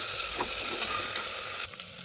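Taro root frying in an oil pan with turmeric, a steady close hiss of sizzling with a few soft scrapes as it is stirred.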